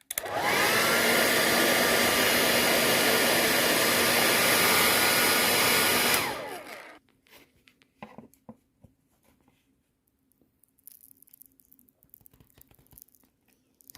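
Heat gun blows hot air onto a ZX81 computer keyboard to soften it for removal, giving a loud, steady roar for about six seconds. It then cuts off, leaving faint scattered scraping and handling noises.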